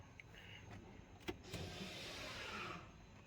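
An electric parking brake on a BMW X3 F25 releases with a short motor whir and a click, heard faintly and close inside the car, with no talking.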